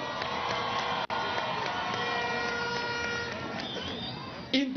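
A large crowd at a political rally for University Student Day cheers and applauds continuously, with horns tooting through the dense roar and a brief dropout midway.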